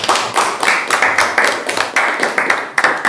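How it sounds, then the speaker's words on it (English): Clapping from an audience of teachers or staff, heard close and loud in a steady flurry of sharp hand claps that rises and dips in waves for about three seconds, with no talk over it. "round of applause for yourselves"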